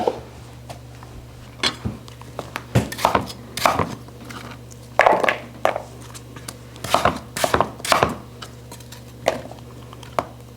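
A knife slicing apples thinly for apple pie, with a series of close, irregular chopping knocks against a cutting board, alone without talk.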